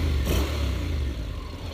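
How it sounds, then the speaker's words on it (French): A motorcycle of a little under 240 kg, up on its center stand, runs loud and close with a steady engine drone and a brief rise in revs near the start. Nobody speaks. "Démarrage."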